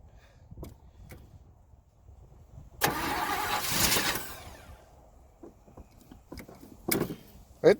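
A Chevrolet Caprice 4x4 project car's engine cranks over in a short burst of starter whirring lasting about a second, followed by scattered clicks and knocks, close by in a quiet garage-like setting.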